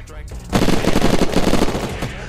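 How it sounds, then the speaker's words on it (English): Rapid bursts of gunfire from the video game Unturned erupt after a brief quiet start and continue densely, loud and close. "Ignore the shots, man."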